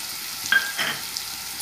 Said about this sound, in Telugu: హీట్ ఎక్కిన ఆయిల్లో ముందుగా సన్నగా తరిగి పెట్టుకున్న ఉల్లిపాయ ముక్కలు, పచ్చిమిరపకాయ ముక్కలు కూడా వేసుకుందాం